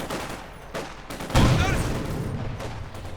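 Gunfire from the Company of Heroes 2 strategy game, a burst of battlefield shots with a sharp louder volley midway, set against a busy background din of combat.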